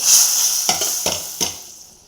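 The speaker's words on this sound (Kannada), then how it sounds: "ಇದಕ್ಕೊಂದು ಒಗ್ಗರಣೆ ಕೊಡ್ತೇನೆ" A hot-oil tempering sizzles loudly up close, a bright hiss that fades gradually while three distinct stirring knocks of a spoon against the pan land about a third of a second apart.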